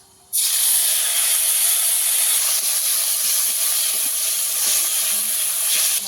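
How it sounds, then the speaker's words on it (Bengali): Tomatoes frying in hot oil in a pan hiss with a loud, steady sizzle that starts abruptly and holds for several seconds, close by and with no talking. "টমেটো ভালো করে ভেজে নেব"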